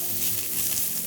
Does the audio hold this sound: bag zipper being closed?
no